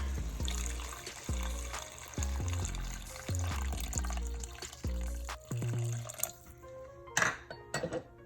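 Water pours and splashes into a cooking pot in a steady, close stream with bubbling and gurgling pulses, ending in a few drips and clinks.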